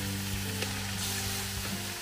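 Onion, garlic and ginger sauté in a pot for arroz caldo, giving a steady close sizzle under a low hum, with a few faint stirring knocks and no talk.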